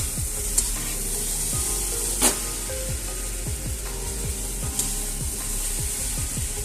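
Taro stolons (kachur lati) fry toward dryness in a pan with a constant hiss, joined by quick, repeated scraping strokes of a spoon and a few sharper knocks. Close and steady, with no talking.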